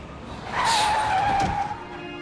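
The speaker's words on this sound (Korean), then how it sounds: "갑자기 급브레이크를 밟는 소리와 함께 버스가 거칠게 확 멈춰서는 거예요." A bus brakes suddenly, its tires skidding and squealing in a sustained screech of about a second that rises out of a quiet background and then fades.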